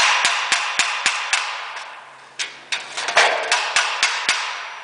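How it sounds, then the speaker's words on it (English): Steady hammer taps strike the back of a metal jack about every quarter second, sharp and ringing, close up, with a brief pause midway before the tapping resumes. "you just want to tap on the back of the jack with your hammer"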